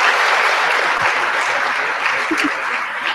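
Sustained applause from a school audience greeting a Little Rock Nine speaker, dense steady clapping filling the room at a constant loud level with a few faint voices mixed in.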